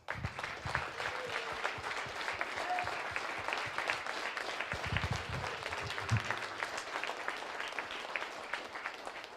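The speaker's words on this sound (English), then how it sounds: "So I want you to stand up and take a round of applause." A banquet audience gives sustained, full applause to police officer mentors at a Police Athletic League program, a dense wash of clapping holding steady for several seconds.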